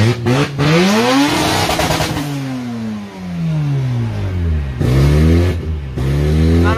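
Rotary-engined drift car at a Russian Drift Series western-stage round, its engine buzzing and revving in rising and falling sweeps, loud and close, with a few sharp throttle blips near the end and no talk.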